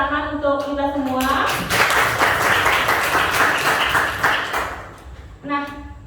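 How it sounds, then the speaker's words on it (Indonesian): A class audience in a university teacher-training session breaks into loud, full clapping after the group presentations, with a spoken voice heard before the applause swells and again as it fades near the end. "Berikan tepuk tangan untuk kita semua."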